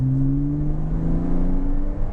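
A Porsche 987 Cayman Boxster flat-six engine revs up toward 5000 RPM, a loud, close, steady droning tone that rises smoothly in pitch over about two seconds, with no talk.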